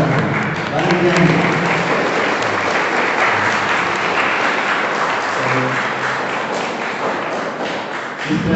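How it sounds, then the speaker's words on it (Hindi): Guests at an Oraon Christian wedding clap loudly and continuously during the ceremony, with a voice speaking over the applause and some low thumps beneath it. "और लड़की को बनाएगी लड़का ताली बजाएंगे"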